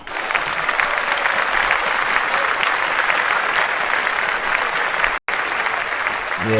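Loud, steady applause from a studio audience on a podcast set, dense continuous clapping that fills nearly the whole stretch before cutting off briefly near the end.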